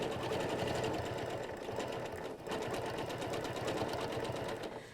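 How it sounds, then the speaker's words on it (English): A sewing machine runs steadily as it stitches along a back to back ruler template, with a dense, even whir of rapid needle strokes and one brief dip midway. "So I'm just going to keep on sewing, and we'll tie it all off at the end"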